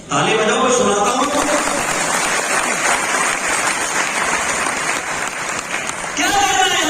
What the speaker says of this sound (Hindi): ताली बजाओ, मैं सुनाता हूं।